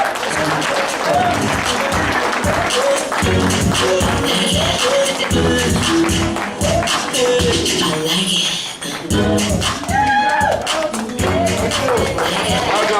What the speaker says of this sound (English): Please give Gigi a round of applause.